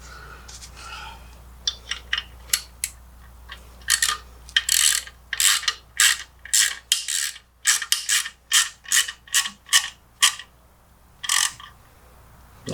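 A ratchet wrench tightens turbo header bolts with lock washers, clicking in quick bursts and then in a steady run of loud, close pawl ratchets with brief pauses between strokes, alone without talk.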